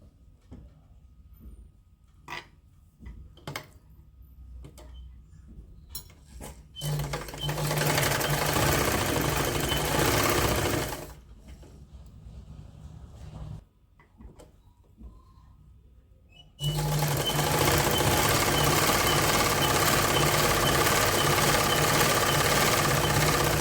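A sewing machine stitches woollen socks together in bursts, a steady rapid mechanical whirr that runs for several seconds, stops, then starts again, with quieter handling noises and faint talk in the gaps.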